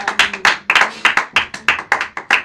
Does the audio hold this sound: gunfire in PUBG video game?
no